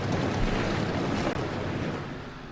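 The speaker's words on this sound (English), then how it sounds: "The engines are fired up." Stock car engines roar at Dover as the field rolls off for the start of a Sportsman Series race, a dense, steady wall of rumbling engine noise like surf or wind with no clear individual cars standing out.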